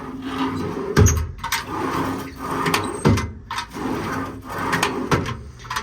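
Several sharp knocks and slides as factory IMT drawers on a 2012 Freightliner M2 service truck body are pulled open and shut at intervals, close by with a faint background hum.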